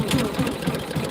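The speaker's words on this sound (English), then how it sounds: "Just turn the engine on, of course, gas on, choke, and literally one pull start kind of thing." A small gas engine on a driveway sealer sprayer runs after a pull start, a rapid even chugging pulse close by.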